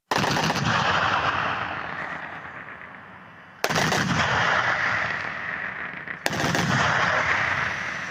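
Three long, loud bursts of rapid-fire shooting from a Gepard anti-aircraft gun's twin Oerlikon autocannons, each a dense roaring stream of shots, close by, separated by brief gaps.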